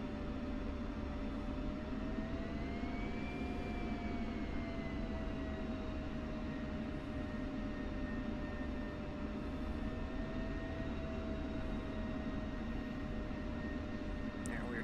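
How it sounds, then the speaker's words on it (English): An F-16C jet in the combat flight sim DCS World taxis to the runway, a steady loud engine whine and roar with a drifting tonal hum, continuous and unchanging throughout. "Now we are taxiing to runway 3 right"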